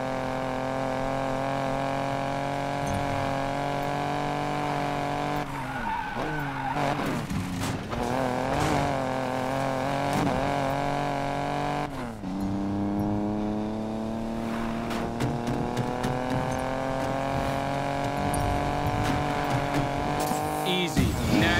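Race cars revving in the game Need for Speed Payback, engines rising and falling in pitch with tire squeal and skidding layered over a constant loud roar, close and continuous for about twenty seconds.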